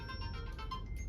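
A phone rings with an incoming call, giving a steady electronic tone pattern that repeats in short pulses over a constant low hum. It is moderately faint, with no talking.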